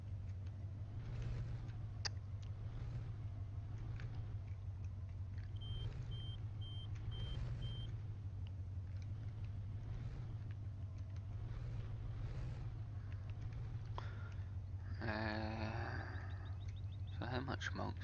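A big truck drives in Farming Simulator 15, its engine a steady low drone throughout with a brief beeping near the end, while someone talks over it intermittently.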